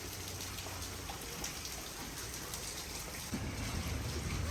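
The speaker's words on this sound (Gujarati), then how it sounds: "અત્યારે ધોધમાર વરસાદ ચાલુ છે" Heavy downpour falling outside a house in London, a steady dense hiss of rain with a slight rise in low rumble near the end, no one speaking.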